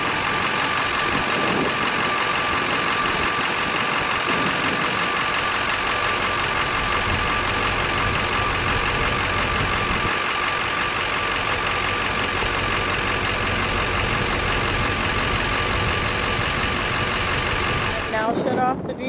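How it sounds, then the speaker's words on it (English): A diesel truck engine idles with a steady, continuous rumble close by at a wind farm for the whole stretch, cutting off abruptly near the end. "Now shut off the diesel truck"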